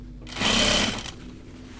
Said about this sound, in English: Half inch seam all the way down.